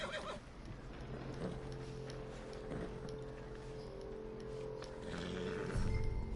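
Horse in the Red Dead Redemption 2 video game, with a whinny and hooves clip-clopping at a steady pace, faint under background ambience and light game sounds.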